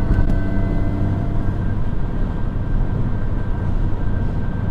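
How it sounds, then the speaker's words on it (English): A supercharged R53 Mini Cooper runs under throttle from inside the car, a loud, steady engine drone with a thin, sustained supercharger whine riding on top. "Just hit the accelerator so you can hear it go"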